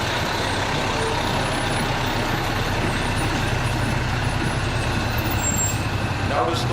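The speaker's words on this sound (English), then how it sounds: "There's another blue colored fire apparatus." A blue fire apparatus truck rolls past in a firefighters' parade, a loud, continuous engine rumble with broadband road noise throughout, ending in a brief hissing burst.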